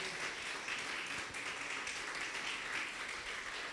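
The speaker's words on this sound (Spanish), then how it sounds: "Dale palmas al Rey, hermano, porque nos gozamos de recordar eso" A church congregation claps for the King, a faint, steady patter of many hands heard from a distance.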